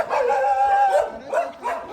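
Dogs on a beach at Alibag bark in short, high yelping bursts, fairly close and clear, with whimper-like tones between the barks and no talk.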